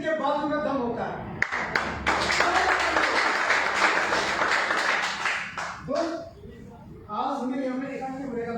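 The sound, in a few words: audience applause, clapping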